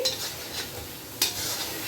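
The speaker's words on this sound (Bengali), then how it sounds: "সব দিয়ে মশলাটা ভাজা হওয়ার জন্য নাড়াবো।" Spice masala of chilli and cumin powder frying in oil for khichuri hisses steadily while a spoon stirs and scrapes the pan, with one sharper clink partway through.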